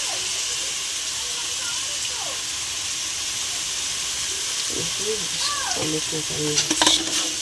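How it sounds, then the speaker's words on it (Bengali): Chicken masala with sour yogurt sizzles loudly and steadily in a pan, a constant hiss with a few brief tonal squeaks and a spoon scraping near the end. "ভালো করে মশলাটা কষিয়ে নেব। টক দই দিয়ে দিলাম"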